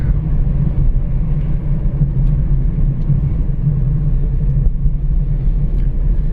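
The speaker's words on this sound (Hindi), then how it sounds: "ये जो सामने से गाड़ी आ रही होती हैं" Steady low vehicle rumble on a night drive through a wildlife area, an oncoming car approaching from the front, continuous and fairly loud with no talk over it.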